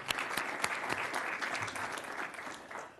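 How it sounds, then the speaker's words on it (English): Applause from the audience at a Wake County commission meeting, a steady patter of many hands clapping at moderate distance for the full stretch, fairly quiet overall. "Let's give Timothy a round of applause."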